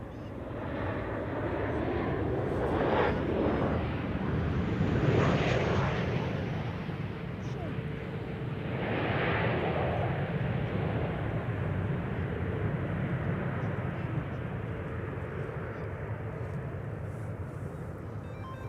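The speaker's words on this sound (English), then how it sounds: "This is KLM flight 1614, arriving from Milan," KLM Boeing 737-800 arriving at Amsterdam Schiphol, a swelling jet roar that rises and falls in broad waves at moderate distance, with a person talking faintly underneath.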